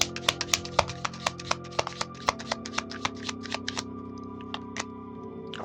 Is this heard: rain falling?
no